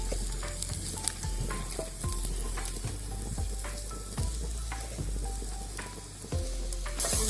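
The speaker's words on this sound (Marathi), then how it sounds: "मिरच्यांना चांगले भाजायचे, म्हणजे जास्त तिखट लागत नाही।" Green chillies and cumin roast in a pan for a village-style green chilli thecha, a steady close sizzle broken by a regular rhythm of spoon-stirring scrapes, with no voices.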